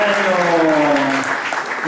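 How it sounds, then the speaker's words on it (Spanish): Crowd applause at a blues band's concert at The Cavern in Buenos Aires, loud and close, with a voice speaking over it throughout the short burst. "Les pido un aplauso para ellos."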